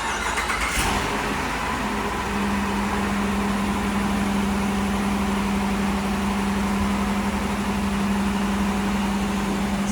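A Dodge Durango engine idles steadily in a grocery store parking lot, a constant low hum holding near and even for the whole stretch after a brief start-up surge.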